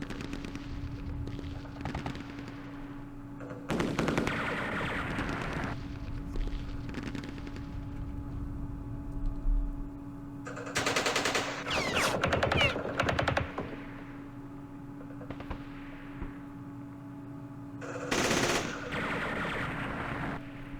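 Gunfire in the wargame Campaign Series Vietnam, Lam Son 719 scenario, with 23mm fire: several loud bursts of shots around 4, 11–13 and 18 seconds over a steady background hum.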